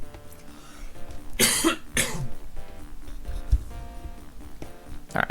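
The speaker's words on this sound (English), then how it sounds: "Gonna cough 1 second." A man coughs close to the microphone, two harsh bursts in quick succession followed by a softer throat-clearing rasp near the end, with quiet background sound between.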